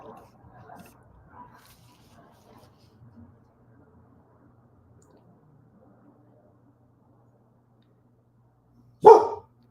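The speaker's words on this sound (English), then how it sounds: "I know you hear the doggy barking." A single loud dog bark near the end, close and sharp, after several seconds of faint background murmur and quiet sounds.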